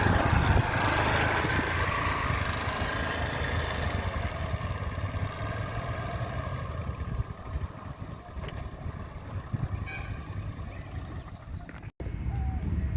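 A scooter engine idles and putters along at low speed, a steady low rumble running throughout with a brief dropout near the end.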